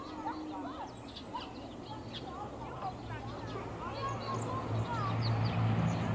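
Sparrows in St James's chirp in scattered short bursts over a busy outdoor hubbub of voices and a steady low rumble, with the background noise swelling toward the end.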